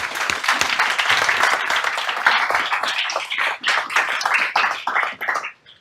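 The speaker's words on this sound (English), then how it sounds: "I think he deserves the biggest round of applause." An audience gives a speaker a warm round of applause, and the dense clapping from many hands holds steady before thinning and fading out at the end.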